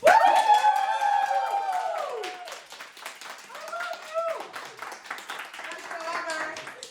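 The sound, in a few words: live audience clapping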